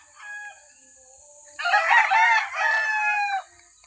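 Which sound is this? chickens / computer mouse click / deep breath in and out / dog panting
chickens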